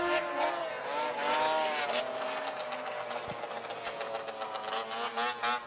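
Racing snowmobiles at the World Series of Snowmobile Racing in Eagle River scream around an oval ice track, a loud continuous high-pitched engine whine rising and falling as sleds pass, with an announcer talking over it.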